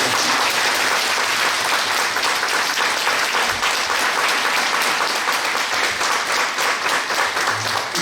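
A church congregation at a Korean Holiness church ordination service bursts into strong, continuous applause for a newly installed elder, a dense, even roar of clapping throughout.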